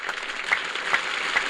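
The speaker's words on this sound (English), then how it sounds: "Give yourselves a round of applause." Steady applause from a crowd, a dense patter of clapping that holds evenly for a short stretch with no talking.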